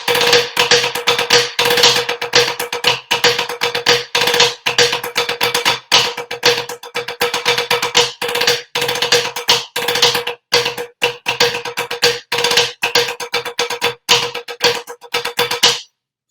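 A snare drum plays the rudimental piece Crazy Army at West Point tempo, a loud, close stream of fast rolls and accented strokes broken by short, crisp pauses.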